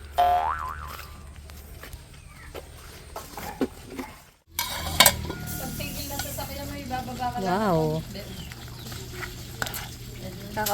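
A spoon stirs sopas soup cooking in a pot, with clinking and scraping against the metal and a soft simmer underneath, while a person talks intermittently.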